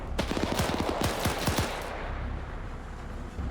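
Bursts of gunfire in a large Arma PvP battle: a quick volley of sharp, loud shots for the first two seconds, then fading into steady background rumble with no voices.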